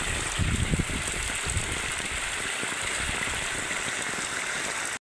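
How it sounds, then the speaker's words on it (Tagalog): Heavy typhoon rain pours down in Masbate, Philippines, with wind adding to the roar. The downpour is close and loud, a dense, steady hiss that holds for about five seconds before stopping abruptly. "sobrang lakas ng ulan dito sa aming probinsya ngayon"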